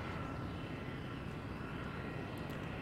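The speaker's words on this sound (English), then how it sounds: "The weird bug where now there's a jet in the sky" A jet flying overhead in Civilization 6 gives off a steady, unbroken roar with airy engine hiss that holds at an even level throughout, with no talk over it.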